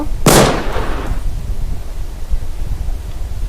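A single sharp gunshot in the video game Far Cry 3 bursts loudly near the start, then fades into a low rumbling background.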